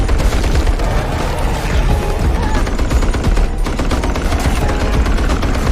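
A movie scene's heavy gunfire, a daughter firing from a Humvee that Danny drives: loud, sustained, rapid automatic shooting with booms and blasts layered under a dense, chaotic action soundtrack.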